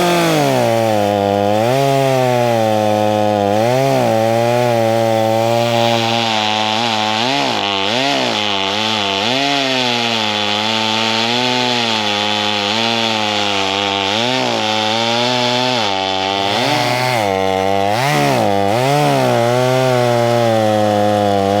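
A Stihl chainsaw, either an MS250 or an 041 with a freshly sharpened chain, cuts loudly and continuously through wood, its engine note dipping and recovering under load and revving between passes.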